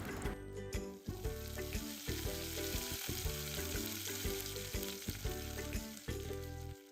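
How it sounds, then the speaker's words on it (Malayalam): Mustard seeds crackle and splutter in hot coconut oil with curry leaves for a Kerala mango pulissery tempering, a loud, continuous sizzle broken by rapid popping bursts throughout. "പാനിലേക്ക് വെളിച്ചെണ്ണ ഒഴിച്ച് കടുക് പൊട്ടിച്ച് കറിവേപ്പിലയും ചേർത്ത് താളിച്ചൊഴിക്കുക."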